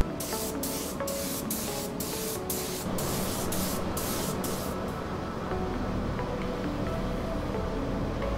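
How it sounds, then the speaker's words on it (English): Bursts of 2K primer spray hiss from a spray can onto a car wheel under repair for gutter rash and scratches, about nine rapid close passes in quick rhythm, then a steady softer hiss alone. "now I'm going to hit it with some 2K primer and go from there."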